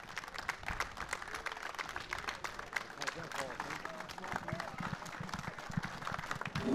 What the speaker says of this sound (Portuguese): Do lado de fora, diversas pessoas batem palmas, enquanto os ministros do STF caminham também batendo palmas.